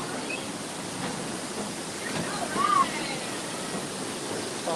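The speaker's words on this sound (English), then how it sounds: "Apologize for the noise of the waterfalls," Steady rushing noise of waterfalls at Knott's Berry Farm theme park fills the scene, a broad constant hiss with no pauses, moderately loud and continuous.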